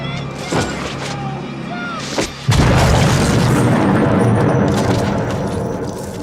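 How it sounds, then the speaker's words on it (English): A grenade blows up in the 1991 horror film Child's Play 3: a loud, close boom that cuts in suddenly after brief quieter action sounds, followed by a sustained rumbling roar and debris noise. "giving Chucky the excuse to finally use that grenade he's been hanging on to"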